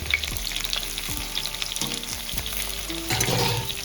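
Chopped onion and lightly fried potatoes sizzle in a pan, a steady close crackle with a few scraping stirs of a spatula and no talk.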